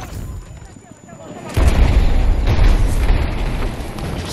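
A grenade blast in a Battlefield game hits suddenly after a quieter stretch, followed by a loud, sustained low rumble and debris.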